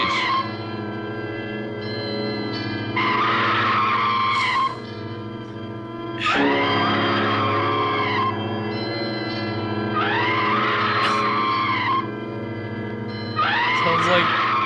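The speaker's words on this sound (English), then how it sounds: "Sounds like car brakes, like tires squealing." Squealing tire-and-brake sound from a 1972 cult horror film, repeating in loud, sustained high-pitched bursts with harmonics, as if a record is stuck and skipping, over a steady droning background.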